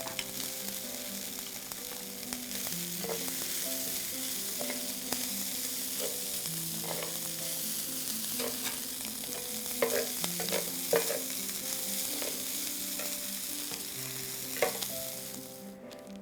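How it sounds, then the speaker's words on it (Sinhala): Cooked rice being stir-fried in a pan for masala rice, a long steady sizzle with frequent stirring scrapes and light clinks of the spoon against the pan, close and constant. "දැන් අපි බත් ටික එකතු කරනවා මේකට."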